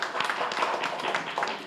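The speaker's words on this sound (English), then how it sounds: "So give a big hand of applause to them." Audience applause for a team at a hotel group quiz event, a continuous bright spatter of many hands clapping, moderately close, with no talk over it.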